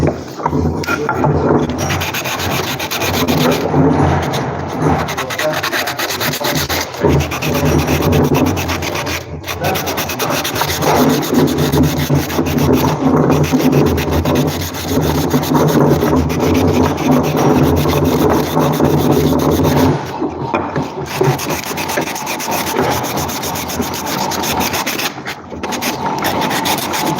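Wooden craft pieces having their edges smoothed with sandpaper by hand, a loud continuous scratchy rubbing with rhythmic strokes close up, briefly pausing now and then.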